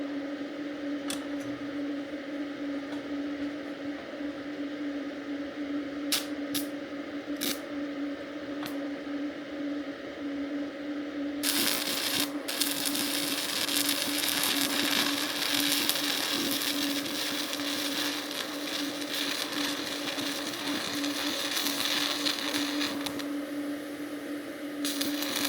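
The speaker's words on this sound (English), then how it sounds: "I'm going to weld two horseshoes together" A small 110-volt arc welder fuses two horseshoes together. A steady electrical hum and a few scattered clicks give way to a dense, loud crackling buzz that runs unbroken for about twelve seconds before settling back to the hum.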